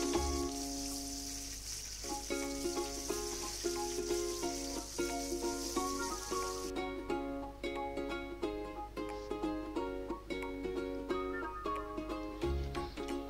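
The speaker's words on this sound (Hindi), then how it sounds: "अब इसी ऑयल में हम 3 अदद गाजर को भी फ्राई करेंगे 2 से 3 मिनट के लिए" Carrots fry in oil with a soft, constant sizzle that is clearest in the first half and fades later, partly masked by steady melodic background music playing throughout.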